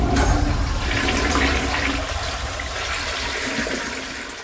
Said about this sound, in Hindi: निखिल की मदर ने सारे पुराने मोबाइल्स उठाए और टॉयलेट में फ्लश कर दिया।